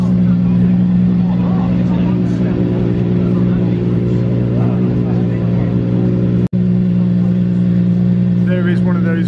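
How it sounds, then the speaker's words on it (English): A Gordon Murray T50 development car's naturally aspirated 3.9-litre Cosworth V12 ticks over at idle, a steady low droning hum throughout at a motor racing circuit, with a brief sharp click partway through and speech-like voices mixed in. "There is one of those NA V12s on tick over."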